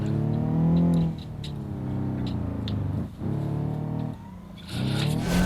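A high-revving petrol car engine in the BeamNG Drive racing game near an Italian port, held at a loud steady pitch with brief drops between gear changes and throttle lifts, then rising again.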